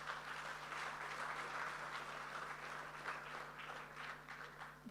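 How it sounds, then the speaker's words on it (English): Steady audience applause at a bank office launch event, sustained dense clapping from a crowd, fairly distant and even throughout. "Ladies and gentlemen, another round of applause,"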